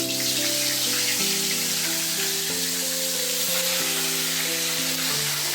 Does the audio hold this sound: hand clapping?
no